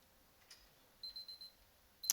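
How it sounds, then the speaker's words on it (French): A faint alarm clock in the video game Superliminal is pressed, giving a short run of soft, high electronic beeps followed by a brighter final chirp over near silence. "Il faut appuyer sur le réveil une dernière fois."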